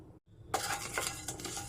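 Asafoetida dry roasting in a pan: after a brief silence, light metallic scraping and clinking of a utensil stirring against the pan, fairly close and soft.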